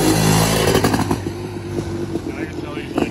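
Honda CR500 trike engine runs loud and close on a ride, a dense buzzing roar that holds steady before easing slightly, with rattles and flapping noise mixed in.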